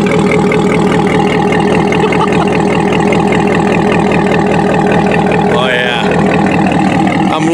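A Corvette C7 fitted with a Corsa Extreme exhaust idles loudly and steadily at close range, a deep continuous rumble with no pauses, while a faint voice talks quietly in the background.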